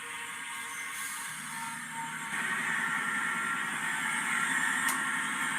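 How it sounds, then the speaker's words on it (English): A GE-9 locomotive engine primes during a cold start: a soft hiss and whir swells after about two seconds into a steady, rapid mechanical buzzing pulse, moderately loud and unaccompanied by speech. "This is priming the engine."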